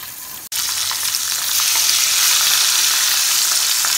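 Stuffed eggplant curry sizzling in a pan over a low flame: a dense, steady hiss that starts after a brief knock, then swells slightly and holds, close and loud with no talk.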